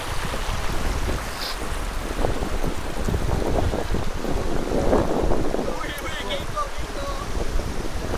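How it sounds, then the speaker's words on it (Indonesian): Mountain stream on Mount Papandayan flowing near hikers crossing it, a constant rushing hiss of water with wind noise buffeting the microphone throughout. "Kita akan melintasi sungai."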